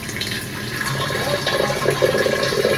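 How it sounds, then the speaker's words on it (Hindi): Water pours steadily into a cooking pot, a continuous close splashing rush that fills out the whole moment with no pause. "तो चलिए इसमें हम करते हैं पानी ऐड"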